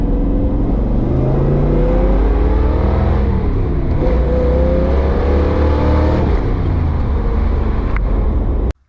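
Big Red, a Duramax pickup truck, drives along with its engine revving up and down, loud and close throughout, with steady road roar and no talking.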